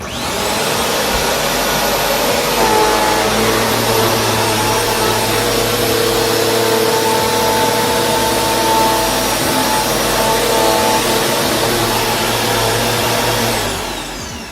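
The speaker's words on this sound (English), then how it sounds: "Let's go ahead and turn the vacuum cleaner on and grab that dirt." A Bissell CleanView Swivel Rewind Pet vacuum cleaner runs loudly and steadily on carpet, a constant whooshing drone with a low motor hum that stops briefly near the end.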